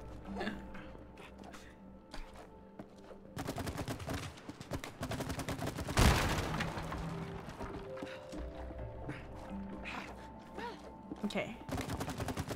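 Video game gunfire from It Takes Two: bursts of rapid shots keep going under a player's brief spoken remark, with one sharp louder blast partway through and a dense mix of game effects.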